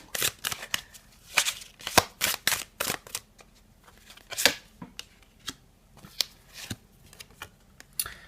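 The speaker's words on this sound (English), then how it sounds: "Shuffle on camera a little bit as well." Tarot cards are shuffled in rapid, crisp riffles and snaps, close by, with irregular bursts and short pauses between them.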